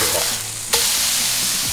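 A smash burger patty sizzles loudly on a hot griddle just after being flipped, a dense continuous hiss with a sharp scrape or slap partway through.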